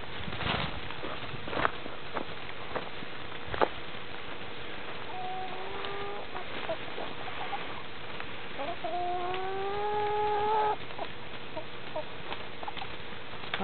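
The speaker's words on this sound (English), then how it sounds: "Those are chickens." Chickens on a farm cluck and call at a moderate distance, including a longer drawn-out call near the middle, over a steady background hiss with occasional knocks and footsteps.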